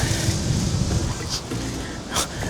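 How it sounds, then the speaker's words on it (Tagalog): Strong wind roars outdoors in Astana, Kazakhstan, a loud, continuous buffeting rush across the microphone with brief gusting swells and no talk. "sobrang lakas ng hangin"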